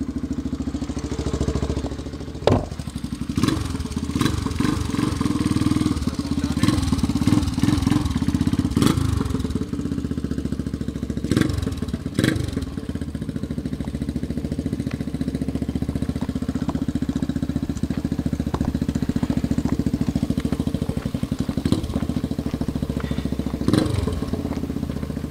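A 1979 Honda XR250 off-road motorcycle runs with a mid-pitched engine drone, moderately close, with scattered clattering and knocks over the steady putter.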